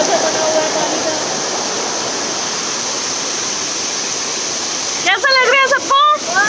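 Waterfall at Sahastradhara near Haridwar gives a steady, loud rushing roar of falling water throughout, with voices breaking in briefly near the end.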